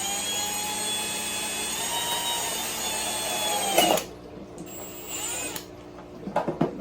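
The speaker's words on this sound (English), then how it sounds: "Drill the second one here." A power drill whines steadily while boring into plastic, then stops and restarts in short bursts, close and loud, no speech.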